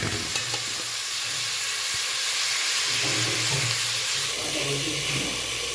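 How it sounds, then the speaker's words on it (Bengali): Onions fry in hot oil for a bottle gourd and catla fish curry, giving a steady, close sizzle throughout with occasional stirring scrapes and no talking. "পেঁয়াজটা যতক্ষণ পর্যন্ত বাদামি কালার না হয় ততক্ষণ পর্যন্ত এটাকে আপনি ভেজে নেবেন"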